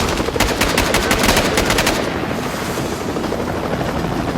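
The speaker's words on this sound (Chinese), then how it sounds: "随着机枪喷射而出的子弹，第1架直升机被成功击落" A movie attack scene has heavy machine gun fire hammering in rapid bursts over the roar of a helicopter; after about two seconds the gunfire stops, leaving a dense, loud rotor and engine rumble.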